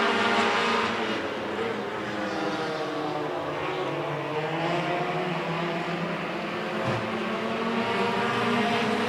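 Sustained roar of race car engines in an 8-lap heat race, several cars droning together at a steady, loud level without letup.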